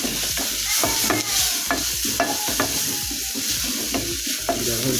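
Garlic and ginger fry in hot oil while being stirred in a pan, a continuous close sizzle broken by repeated scraping and knocking of the utensil against the pan.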